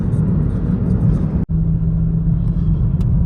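Car driving through city streets toward the Maidan in Kyiv: a steady, loud low engine and road rumble from inside the cabin, briefly cut out once, then resuming unchanged.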